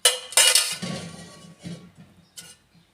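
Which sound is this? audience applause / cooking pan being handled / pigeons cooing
cooking pan being handled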